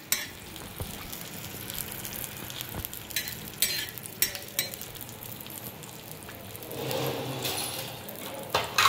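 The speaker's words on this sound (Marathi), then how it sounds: "आपण हा लसूण भाजून घेऊया व्यवस्थित चटणीसाठी।" Garlic roasting in a pan for a dried bombil chutney: a steady sizzle broken by sharp clinks and scrapes of stirring, with a louder frying swell near the end, close by and free of talk.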